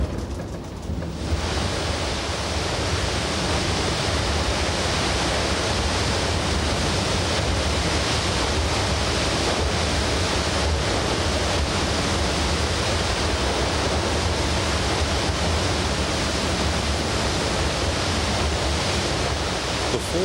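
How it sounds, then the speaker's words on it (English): Waterfall on the Rosenlaui Valley streams, cascading 100 meters down the side of the Aare Valley in Switzerland, roars as a loud, steady broadband rush that holds constant throughout with no talk. "Falls are formed where the streams of the Rosenlaue Valley cascade 100 meters down the side of the Aare Valley."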